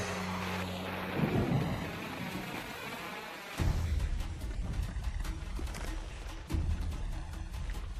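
A thunderstorm over the Amazon rainforest, with loud, close thunder rolling in bursts over a steady wash of rain; heavy booms strike near the start and again midway, with a lighter crack later.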